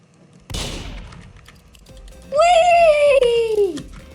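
A video game pistol fires a single sharp shot at a murderer, followed after a short pause by a loud, high sustained game jingle or voice-like tone that slides downward.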